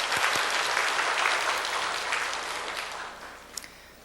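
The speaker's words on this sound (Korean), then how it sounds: "우리 하나님께 영광의 박수를 드리겠습니다." A church congregation claps together during a Korean worship service, a loud, dense burst of applause that gradually fades toward the end, with no talk over it.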